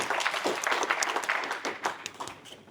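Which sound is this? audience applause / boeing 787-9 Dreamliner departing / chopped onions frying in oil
audience applause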